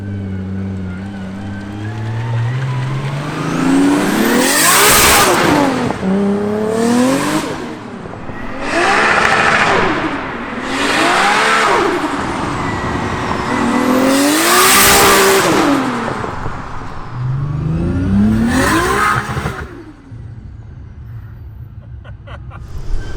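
A 30-year-old Nissan car accelerates repeatedly, its engine rising in pitch through several loud, close revving pulls with short drops between them, then settling to a lower idle near the end.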